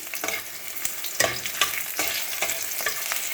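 Steady crackling sizzle of onion, bay leaf and garlic frying in hot oil, with intermittent scraping stirs of a utensil against the pan, close and fairly loud.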